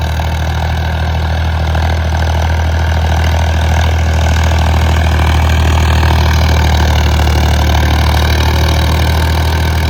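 A Farmtrac 60 tractor engine runs under load with a root beater implement, a steady, loud low-pitched diesel drone that holds constant without a break, with no talk over it.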